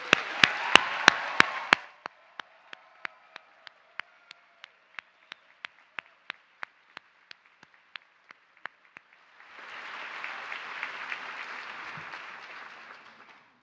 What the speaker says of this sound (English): please join me in a hearty round of applause for this awesome group on reaching an important milestone